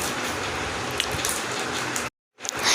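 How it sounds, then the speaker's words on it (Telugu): Sea waves on the shore at Vizag give off a broad, loud rushing wash. It cuts out abruptly for a moment, then returns. "చూడండి ఎంత బాగా అలలు వస్తున్నాయో"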